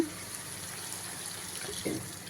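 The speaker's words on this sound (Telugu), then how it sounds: "దీంట్లో వాటర్ కూడా యాడ్ చేస్తాను" Water from a bottle is poured into a pot of cooking mutton and drumstick curry, a short, soft splashing and gurgle over quiet background hiss.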